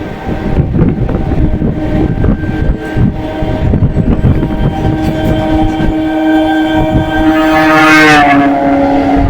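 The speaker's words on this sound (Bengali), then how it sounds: "উল্টো দিক থেকে একটা ডাউন ট্রেন ঢুকছে শিয়ালদাগামী" A Sealdah-bound down suburban train pulls into Ballygunge Junction, its loud wheels rumbling and clattering close by before a long, blaring horn sounds near the end.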